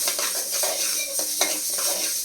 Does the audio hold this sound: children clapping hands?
no